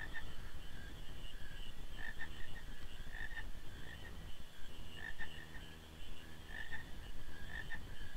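Frogs croak in the Final Fantasy 9 video game, a steady chorus of rhythmic, rasping calls pulsing over an ambient background, continuous and moderately quiet with no talk.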